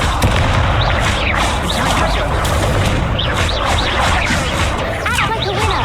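Incendio fire spell in Hogwarts Legacy, a loud, sustained roar of crackling fire and booming bursts lasting several seconds, with game sound effects layered on top.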